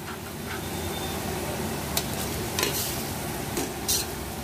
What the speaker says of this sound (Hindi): और अब इसमें हम डालेंगे टमाटर।